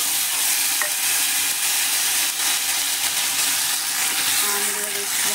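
Cut mangoes stirring and frying in a pan with five-spice seeds, a steady broadband sizzle filling the whole stretch with occasional scrapes of the spoon, close and fairly loud, no voices.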